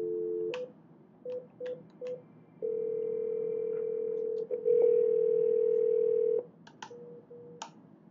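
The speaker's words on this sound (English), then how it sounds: "Then dial the person you'd like to conference in" A Cisco IP phone dialing into a conference call: a few short, evenly spaced keypad beeps, then a long steady tone, more key beeps and another sustained tone, all clear and close with no talking.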